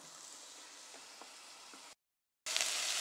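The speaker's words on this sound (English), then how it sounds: "you can see that's sizzling nicely, they're softened up" Onions and chilli sizzle gently in a little oil in a pot over moderate heat, a soft, steady frying hiss with faint pops, broken by a brief silence and then a louder burst of sizzling.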